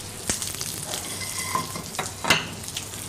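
Sections of peeled peach and sticks of peeled rhubarb sizzle in butter in pans, a steady soft frying hiss with occasional clinks and stirring scrapes, fairly quiet and without talk.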